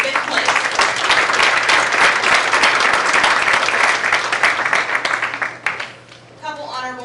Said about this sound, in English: one more round of applause for first through fifth place.